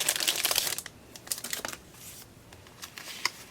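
Packaged paper notes crinkle and rustle as they are handled during an unboxing, giving irregular close crackles and soft scrapes that come in short bursts with brief pauses.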